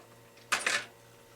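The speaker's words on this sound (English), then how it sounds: "Very simply just going to unscrew them." Two quick mechanical clicks from a screwdriver loosening the shock top screws on a Turtle Racing 5T RC car, close and crisp against a quiet background.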